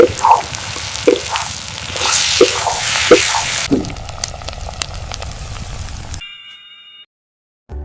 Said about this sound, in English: Now I will mix all the ingredients well.